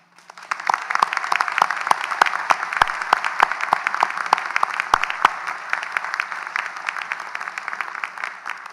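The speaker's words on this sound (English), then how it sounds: "Let's thank this group with our applause." A crowd at a college commencement ceremony applauds steadily for several seconds, claps overlapping into a dense wash with a few sharp individual claps standing out.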